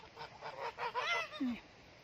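Several nasal goose honks in quick succession, fairly close, with a lower drawn-out call at the end.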